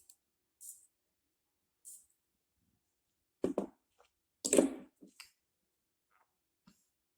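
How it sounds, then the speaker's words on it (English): Perfume is sprayed onto a paper test strip in short, quiet hissing bursts, two of them early on and separated by silence, followed by a few soft handling clicks and rustles. "Do about 2 sprays."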